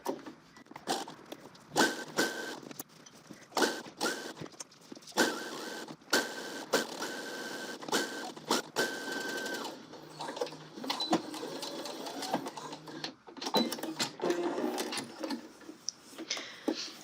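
A sewing machine stitches a seam on a colorblocked angle coat, running in repeated bursts of steady whirring with short pauses between runs, fairly close.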